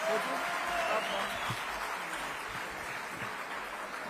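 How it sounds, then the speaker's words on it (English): Audience applause at a 2023 ICT summit, a dense steady clapping wash lasting a few seconds with a faint voice or two underneath. "They are not going to get off the stage up until you give them a rousing round of applause."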